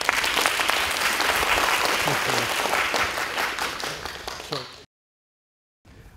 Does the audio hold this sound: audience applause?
yes